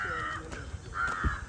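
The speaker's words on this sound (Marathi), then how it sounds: "कावळा आहे. येस मग दाखवतो पण पक्षीच आहे ना." A crow calling in a national park jungle during a safari, two harsh caws separated by a short gap, fairly close and clear against a quiet outdoor background with a faint low rumble.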